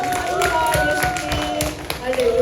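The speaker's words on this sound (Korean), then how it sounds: "예수님이 이 땅에 오심을 우리가 정말 감사의 박수를 한번 올려드립니다" A church congregation at a Christmas thanksgiving worship service claps together in thanks, with scattered sharp hand claps running under a voice that carries on throughout.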